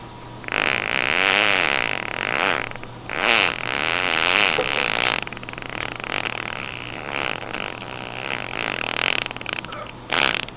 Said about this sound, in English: Your fart.